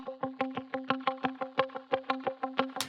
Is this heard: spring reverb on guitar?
yes